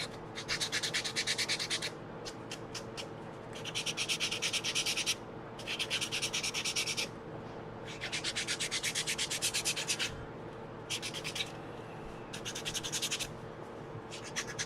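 Hand sanding in rhythmic bursts of rough scratchy rubbing, several strokes at a time separated by short pauses, close and fairly loud.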